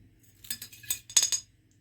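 Small clinks of a metal teaspoon against a glass bottle as sea salt goes in, a few light taps clustered in the middle of an otherwise quiet moment, close and fairly soft.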